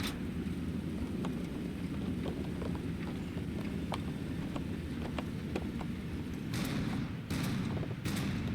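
Kawasaki Ki-102 aircraft guns fire in a video game, with steady rapid bursts under a constant roar of engine and wind, and sharper cracks near the end.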